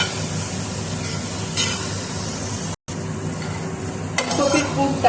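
Grated ginger with a cauliflower filling is stir-fried in a pan on low flame, making a steady close sizzle under repeated spatula scraping, with a sharper burst of frying near the end and no voices.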